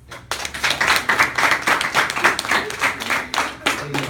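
Applause from an audience after a speech, dense clapping from many hands filling the room at close range, steady throughout with a brief dip near the end.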